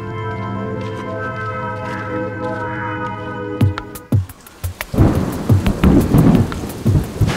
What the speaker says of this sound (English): it's already started raining quite hard